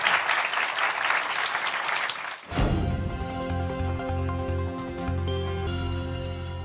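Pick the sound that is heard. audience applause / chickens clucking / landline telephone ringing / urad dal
audience applause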